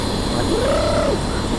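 On a New York City street, a man mimics a pigeon crossed with a helicopter, a single rising-and-falling cooing glide over steady street and engine hum.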